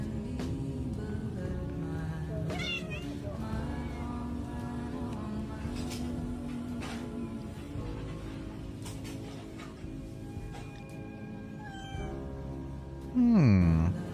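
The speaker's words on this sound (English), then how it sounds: "It's a good mama cat." A mother cat meows repeatedly in a series of drawn-out, wavering calls, fairly close, over a steady background hum, ending with a louder, rising cry.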